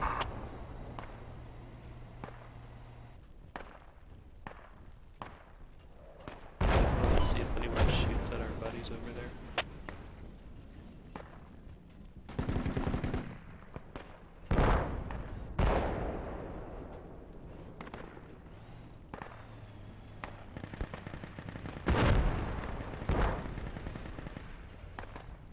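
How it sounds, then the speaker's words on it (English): Gunfire in the military game Project Reality: scattered single shots and short automatic bursts, some sharp and close, others more distant, with a heavy burst midway and occasional voices between them. "Still a lot of enemy fire at southeast."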